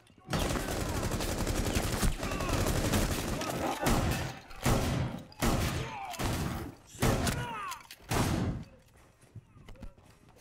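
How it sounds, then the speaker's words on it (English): Shotgun blasts in a video game firefight, a rapid run of loud, close booming shots in bursts with short gaps, some voice underneath. "Trying to only use shotguns definitely makes this a lot more interesting."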